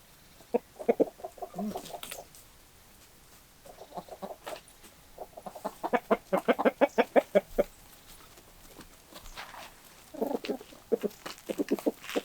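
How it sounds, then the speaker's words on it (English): Chickens just let out of their coop cluck in bursts, rapid runs of short clucks coming in several clusters separated by quiet gaps, fairly near and moderately loud, with no talk over them. "So I've just let the chickens out."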